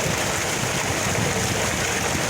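Steady, loud rush of water pouring from a village tubewell that irrigates the surrounding crops, a dense continuous splashing close by with no voices.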